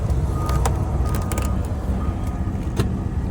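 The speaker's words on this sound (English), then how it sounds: "It's misfiring. Definitely got mechanical problems." A 1992 Ford F-250 truck engine runs close by with a rough, uneven rumble from misfiring. Sharp clanks and knocks break in now and then, and no one speaks.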